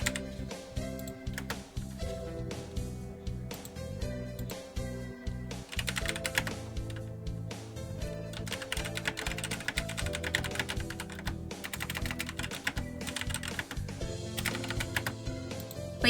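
A loud computer keyboard is typed on close to the mic, rapid clacky keystrokes coming in uneven bursts and runs with brief pauses, no talking heard.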